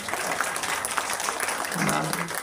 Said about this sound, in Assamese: এটা হাত চাপৰি দিয়ক